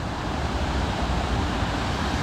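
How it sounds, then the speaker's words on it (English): Waterfall in Snowdonia National Park, heard as a steady, broad rushing roar at moderate distance with no pauses and no voices. "we're always looking at that waterfall there"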